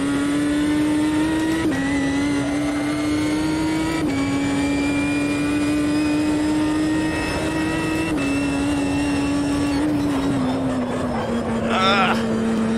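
A race car engine in Automobilista 2 on the Taruma circuit drones at high revs, with brief shifts in pitch as the car changes gear and accelerates, heard steadily from the cockpit while someone talks over it.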